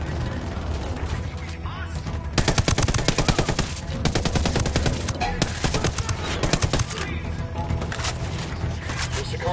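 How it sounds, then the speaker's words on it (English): Sicarios fire on an emitter in a video game, heard as loud, rapid machine-gun bursts that come in repeated rattling volleys with short pauses between them, with faint voices in the background. "The Sicarios are shooting the hell out of this emitter"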